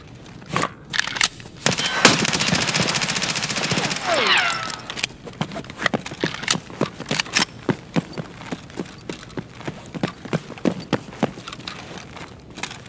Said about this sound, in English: I'm shooting at nothing because I was scared